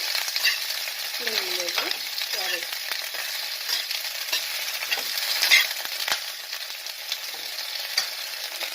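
Okra (bhindi) frying in a pan, with a dense, steady sizzle throughout and faint stirring and clinks close by, plus a brief faint voice in the background.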